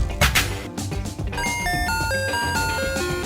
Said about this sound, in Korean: 쉬는 시간을 알리는 종소리가 울리면